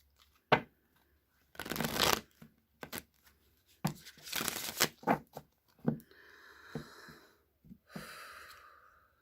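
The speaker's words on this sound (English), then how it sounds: "All right, one more shuffle for this one." A deck of tarot cards is shuffled by hand in a quiet room, with several bursts of riffling and rustling separated by short pauses, close and fairly soft.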